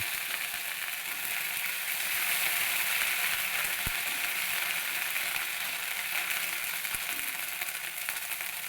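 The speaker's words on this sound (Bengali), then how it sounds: "আদা বাটাটাকে কিছুক্ষণ একটুখানি ভেজে নেব" Ginger paste fries in oil in a pan alongside cardamom, cloves and a little mace for a masala paneer, giving a steady, even sizzle that stays constant throughout with no talking.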